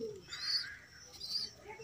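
Domestic pigeons kept at a home cooing, two soft, low coos a moment apart, fairly close and faint against quiet surroundings.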